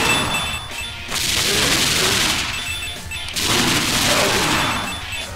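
Assault rifle gunfire in the video game Dead Pixels comes as two long, dense stretches of loud, sustained automatic fire with a short lull between them and no talking.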